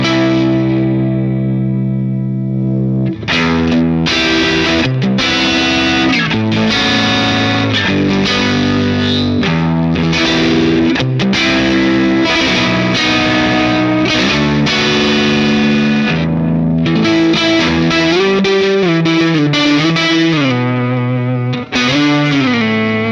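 Electric guitar run through a Vox amp modeler with the volume maxed, heavily distorted and driven, playing sustained chords and riffs loud and continuous with no talking.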